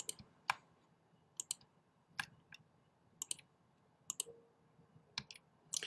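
Computer keyboard typing in bursts of sharp, close clicks, with short pauses between clusters of keystrokes in a quiet room.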